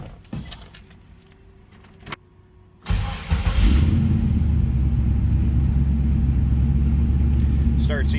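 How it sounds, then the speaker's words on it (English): A 1967 Pontiac Firebird engine cranks and catches, then settles into a deep, throaty rumbling idle through a newer exhaust close by, preceded by a few clicks and key jingles. "Starts easily. Nice throaty exhaust"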